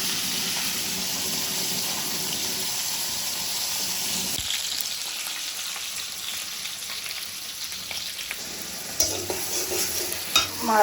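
Fish pieces fry in a pan with a steady, moderately loud sizzling hiss, a few soft clinks and a brief splash of running water near the end.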